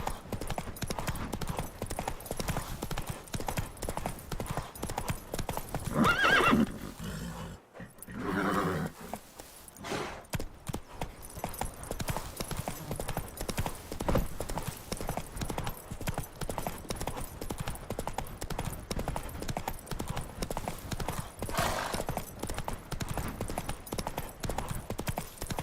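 Horse hooves clip-clop at a steady gait in The Witcher 3 video game, continuous and close. A short break comes midway, with a brief whinny and some game ambience around it.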